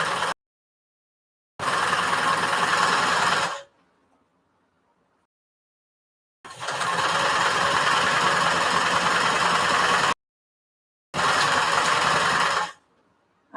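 A sewing machine stitches fabric for a tote bag in three separate runs, each a steady, even mechanical whir of a few seconds, with short silent pauses between them and no talking.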